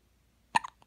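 A newborn baby gives a single short, close hiccup with a faint catch of breath just after, in an otherwise quiet room.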